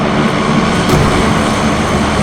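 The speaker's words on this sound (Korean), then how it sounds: "비행기 또다 비행기" Airplane engine in PUBG on the Miramar desert map, a steady broad droning roar that holds at even loudness throughout with no talk over it.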